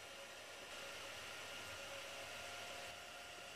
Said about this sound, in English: here I engrave a graphics on a piece of plywood